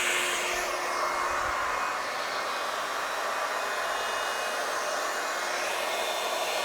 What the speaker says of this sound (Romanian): Sunt tare curios cât consumă un uscător pe maxim.